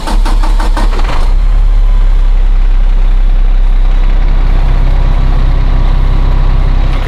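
A Peterbilt 567 live-bottom truck's diesel engine cranks briefly, catches, and settles into a loud, steady, close idle with a deep rumble that runs on alone.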